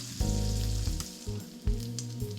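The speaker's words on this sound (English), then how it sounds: "our bacon is just starting to brown up. It's gonna get nice and crispy." Bacon frying in a pan while rendering down for pasta carbonara, a steady loud sizzle with crackling spits, briefly interrupted by stirring or movement of the pan.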